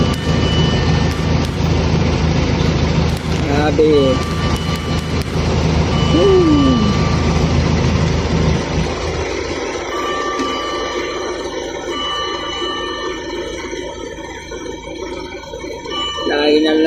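Busy Manila street traffic in the Abad Santos area toward Binondo, with engines rumbling steadily, horns and a reversing beep cutting through, loud and continuous while a voice speaks briefly.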